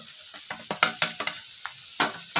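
Pepper chilies fry in a pan used for a dry fish chutney, a sizzling hiss broken by a quick series of sharp scrapes and taps from stirring, close and fairly loud.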